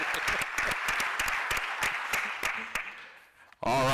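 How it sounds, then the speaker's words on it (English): Sustained applause at a school district board's regular session: a few sharp, separate claps swell into dense clapping from a room of people, then stop abruptly as a brief voice-like sound starts at the end. "join me in giving him a round of applause"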